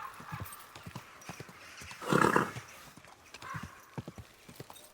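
A horse's hooves clop in a town in Kingdom Come: Deliverance 2, with a steady rhythm of close hoof strikes and a brief louder snort or whinny in the middle.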